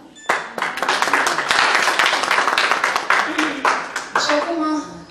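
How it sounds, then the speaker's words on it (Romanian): Audience applause at a golden wedding anniversary ceremony in Stăuceni, a dense burst of hand clapping that starts abruptly, holds steady and thins toward the end, with a voice and other voices heard faintly beneath. "Eu cred că și mie dau aplauze"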